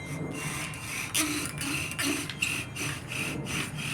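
Bow drill friction fire with a cedar fencing board and a wooden handpiece: a rhythmic back-and-forth rasping, close and steady, with regular strokes of the bow rubbing the spindle.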